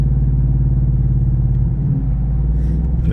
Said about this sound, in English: I just gave a little gas and kicked down to 5th gear